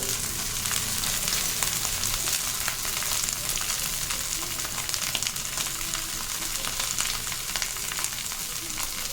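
Small onions cut lengthwise fry with curry leaves in a pan, giving a steady, crackling sizzle that runs unbroken for about nine seconds, with faint stirring now and then.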